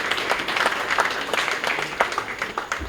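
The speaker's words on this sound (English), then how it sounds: "It deserves a round of applause" Applause from the audience at an awards dinner and fundraiser, a steady patter of many hands clapping at moderate distance for about three seconds.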